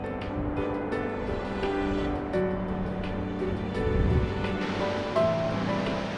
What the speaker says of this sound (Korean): 사철 동해의 옥빛 파도 소리가 귀를 맑게 해주는 곳